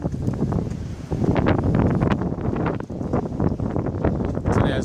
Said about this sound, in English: I just want to film the wind